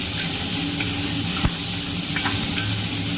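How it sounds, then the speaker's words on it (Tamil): Ginger, garlic and green chili sauté in a pan for a kofta gravy, a loud steady sizzle and hiss with a sharp spoon scrape in the middle and scattered light stirring taps, no speech. "இஞ்சி பூண்டு சேர்த்து நல்லா வதக்கிடலாங்க"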